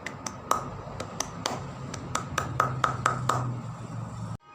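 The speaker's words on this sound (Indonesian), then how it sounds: "saya awali dengan tepuk pramuka" A Scout clapping pattern (tepuk pramuka) rendered as a quick rhythmic series of about a dozen sharp, close hand claps, the spacing tightening toward the end before an abrupt stop.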